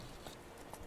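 Horse hooves clatter in The Witcher 3, a short burst of game galloping over a steady low background, with faint rhythmic thuds.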